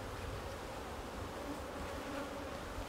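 Honeybees in an opened hive during a swarm check drone in a steady, dense buzz, close and fairly quiet, with no voices.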